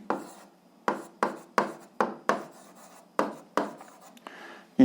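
Pen writing out an algebra solution by hand on paper: a rapid series of short, close scratchy strokes in an uneven rhythm, each with a quick attack and fade, with no talking.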